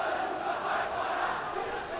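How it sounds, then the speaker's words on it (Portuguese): Football fans sing and chant in the stands at Bezerrão stadium during a Gama versus Ceilandense match, a broad, distant, continuous crowd roar with no clear talk over it. "a galera cantando aí"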